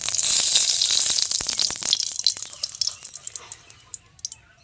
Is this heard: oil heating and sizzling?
yes